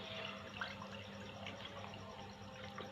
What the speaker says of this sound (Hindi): हम 2 गिलास जो है वो सोडे के ऐड कर लेते हैं